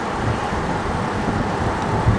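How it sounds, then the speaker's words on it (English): Steady, broadband wind rush buffets the microphone during a time-trial bike ride for a couple of seconds, a constant low roar with no other clear sounds. "It's so windy."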